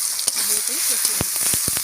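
Potatoes and stems with Kashmiri chili powder, turmeric and hot chili powder fry in a pan, a close steady sizzle with a few sharp clinks and scrapes of stirring toward the end.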